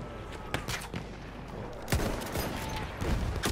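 Battlefield 1 gunfire in a multiplayer conquest match: repeated sharp shots and bursts, some close and loud, others distant, rattling over a dense battlefield din without speech.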